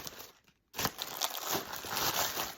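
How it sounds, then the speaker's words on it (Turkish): A cardboard cargo package being torn open indoors, with close, loud crinkling, crunching and tearing bursts after a brief quiet pause, continuing in uneven rustling handfuls. "Hemen kargomuzu açıyoruz"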